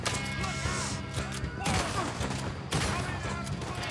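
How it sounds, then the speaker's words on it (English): Gunfire in Red Dead Redemption 2 on PS4 Pro, a loud continuous volley of shots with crashing impacts through the whole stretch, a sharp burst near the middle and another later, mixed with game sounds. "I really shot that tree."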